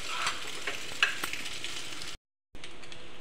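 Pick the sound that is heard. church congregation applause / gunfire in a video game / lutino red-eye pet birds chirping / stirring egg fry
stirring egg fry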